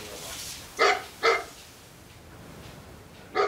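A dog barks three times indoors at a house, two close sharp barks in quick succession and then a third after a pause, loud and near over a quiet room.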